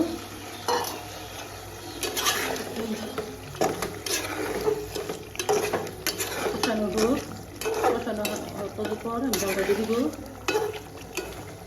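Chicken and spices sautéed and stirred in a pan for a gram dal chicken curry, with a spoon scraping and clinking against the pan over steady sizzling, while someone speaks throughout.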